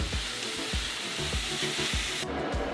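Onions sizzle and fry in a hot pan on a grill as a loud, steady hiss, with a regular series of soft scraping thumps as they are stirred.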